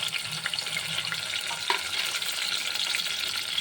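Onion and green chillies frying in a pan for a Varadi chilli vegetable dish, a steady close sizzle with faint stirring scrapes throughout and no talking.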